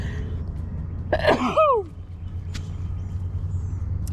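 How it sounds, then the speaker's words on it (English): A single sharp sneeze bursts out in a quiet room, followed by a brief exhale, with low background hum. "let me sneeze"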